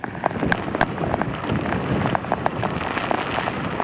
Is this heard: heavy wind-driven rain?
yes